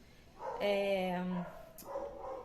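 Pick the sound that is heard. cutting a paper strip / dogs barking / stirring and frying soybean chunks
dogs barking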